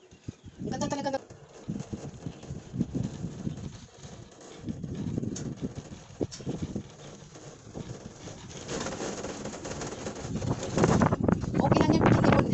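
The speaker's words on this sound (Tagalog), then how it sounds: "Ayan medyo lumakas naman ang hangin kaya medyo mahina." Strong wind buffets the microphone on a cable car ride over the ocean, rumbling in low gusts that rise and fall, with people talking intermittently over it.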